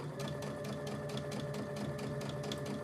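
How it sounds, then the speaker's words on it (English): A domestic sewing machine top stitching fabric runs at a steady, even pace, a continuous close mechanical whir with a regular ticking needle rhythm throughout and no talking. "I'm just going to do some top stitching."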